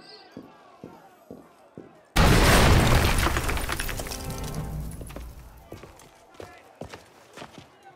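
A sudden loud boom of a gunshot and explosion in the Assassin's Creed Unity video game, breaking in after quiet footsteps and decaying slowly with rumbling debris, then fading back to scattered footfalls.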